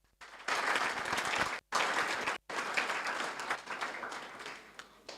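An audience at a college academic opening applauds its principal, a dense burst of clapping from many hands that briefly cuts out twice, then tapers toward scattered claps at the end.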